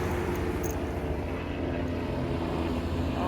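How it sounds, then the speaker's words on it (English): Aircraft or helicopter passing outside, a steady low engine drone holding at moderate level throughout with no talk over it. "here comes some cars. Hold on. Cars or a helicopter."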